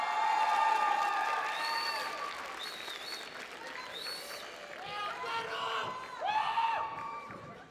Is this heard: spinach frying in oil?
no